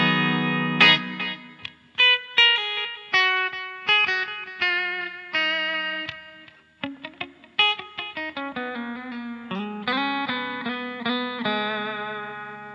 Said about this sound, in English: you can have a mix of delay and reverb together